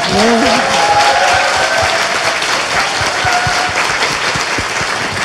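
Studio audience applause at a Korean political talk show, a dense steady wash of clapping throughout with a faint voice briefly audible underneath.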